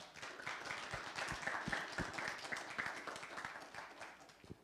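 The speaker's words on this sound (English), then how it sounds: "Can we all give a round of applause and appreciation for Pastor Anna?" A congregation gives a round of applause for a chaplain at a refuge gathering, scattered claps building into a moderate, uneven patter that holds steady and then thins near the end.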